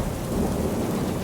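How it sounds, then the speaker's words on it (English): Thunder rumbles beneath a dense, steady downpour of heavy rain, a continuous close roar with no pauses or voices. "there was a great rain"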